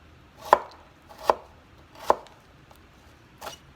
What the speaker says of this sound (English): I like cutting it into matchsticks because they are all even